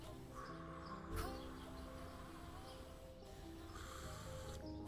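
Crows cawing in the morning, a few rough calls over a steady, humming tonal background at moderate loudness.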